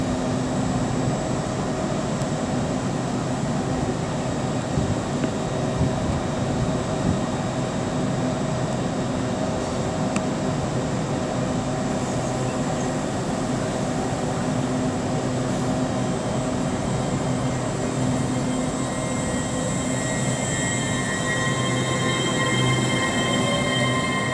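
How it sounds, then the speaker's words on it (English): An LNER Azuma class 800 train, unit 800-203, departs a station with a steady, loud rolling rumble and a continuous electric drone that holds even throughout, with faint high squeals of wheels on rail. "the thing 800-203 is now going to be departing with the 1332 LNER Azuma service to Harrogate"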